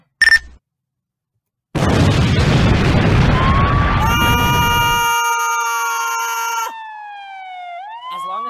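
Bomb explosion in an animated cartoon: a short blip, a pause, then a loud sustained roaring blast that fades into a ringing tone and a descending whistle-like glide.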